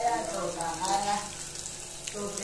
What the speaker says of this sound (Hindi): समन दाल चावल गर्म कर रही है।